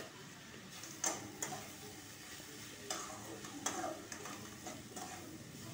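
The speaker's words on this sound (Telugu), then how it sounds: "కొంచెం గరం మసాలా వేసి వేయిస్తాను" Cabbage rice frying in a pan with garam masala, with a spoon stirring and scraping in a few sharp clacks over a soft, steady sizzle. It is quiet and close, with no voices.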